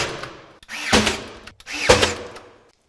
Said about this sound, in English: then you can nail gun it securely and safely